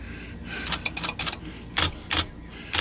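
An IBM Selectric electric typewriter types a short run of sharp, quick strikes over a low motor hum, followed by two heavier separate clacks.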